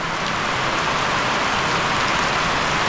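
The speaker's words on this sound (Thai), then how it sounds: "ตอนนี้ขอดูบรรยากาศ ฝนตกไปก่อนนะผม" Steady rain pours around a hut set in a mountain valley, a dense continuous hiss of drops on surfaces with no talk and no breaks across the whole stretch.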